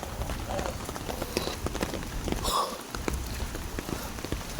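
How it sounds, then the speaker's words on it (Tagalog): Steady heavy rain hissing and pattering on surfaces close by, continuous throughout with a brief dip in the low rumble midway. "Kasi malakas ang ulan."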